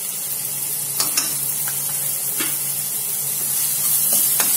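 Sliced onions fry in hot oil for Kerala-style chicken varattiyathu, making a loud, even hissing sizzle with a few light clicks of stirring.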